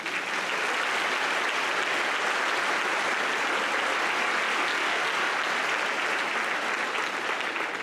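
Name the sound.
audience applause at school gala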